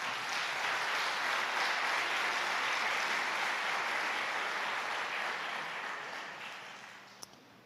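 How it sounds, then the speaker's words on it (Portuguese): A church congregation applauds steadily in a dense, even wash of many hands, holding strong for several seconds before slowly thinning and fading out. "Dê um aplauso à palavra do Senhor"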